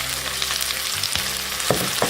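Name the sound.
chicken pieces frying in a pan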